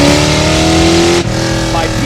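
A 1987 Ford Mustang GT Fox Body, a cheap-challenge car, roars loud and close at high revs, dropping briefly before climbing again, with voices partly heard over it.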